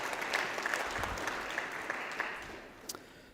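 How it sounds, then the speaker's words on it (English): Applause from a conference audience at a SCaLE 22x ballroom session, a steady wash of many hands clapping at moderate distance, holding evenly for a few seconds before tapering off. "let's give a nice round of applause for Jared"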